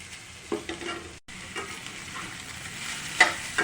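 Onions fry in a pan with a steady soft sizzle while being stirred, with scraping clicks and a short louder scrape near the end.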